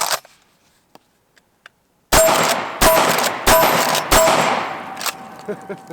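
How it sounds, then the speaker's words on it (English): A Benelli SuperNova 12-gauge pump shotgun fires four loud, booming shots in quick succession at steel targets outdoors, each blast followed by a ringing clang and a decaying echo, with a few faint clicks before the first shot. "Let's try a little rapid fire on the steel."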